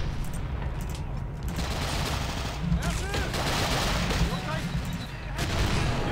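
Mortar and small-arms fire from the Men of War Assault Squad video game crackle in a dense, continuous battle with distant booms and scattered shots.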